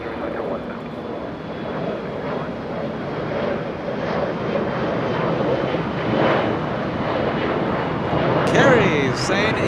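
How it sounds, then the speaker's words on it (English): A Virgin Atlantic Boeing 787 Dreamliner airliner lands on the south side at Los Angeles International Airport, giving a steady, loud broadband jet roar that swells slightly toward the end, with wind buffeting the microphone. "We go to Virgin Atlantic, making a rare south side arrival."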